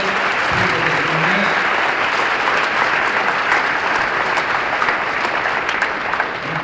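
An audience claps in loud, dense applause after a closing speech, a continuous wash of many hands that keeps an even level from start to finish.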